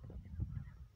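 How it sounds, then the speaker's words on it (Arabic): Birds near water, among palms by a mountain near Sidi Ifni in Morocco, give brief low honking calls, close and alone within about a second. "كذلك سمع الطيور"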